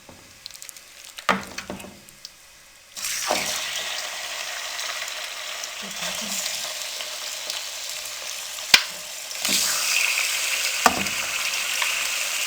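Chicken pieces added to ginger garlic paste in a karahi, with a quiet start and then a sudden loud, steady frying sizzle broken by occasional stirring clatter.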